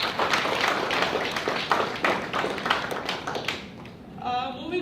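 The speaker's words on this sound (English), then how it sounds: "Let's give a big round of applause for MC." Steady applause from an audience at a speaking club evaluation session, a dense wash of many hands clapping continuously and fairly loud, tapering slightly near the end as a voice begins.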